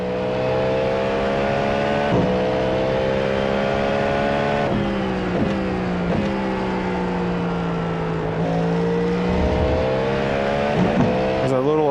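Cadillac GTP race car engine in iRacing, a steady high-pitched engine note rising and falling through throttle changes and gear shifts, loud and continuous throughout, with a voice talking over it.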